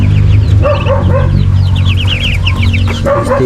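A mother hen clucks repeatedly at close range on a rural farm, with loud rhythmic clucks and short chirps over a steady low background hum, while a person briefly speaks.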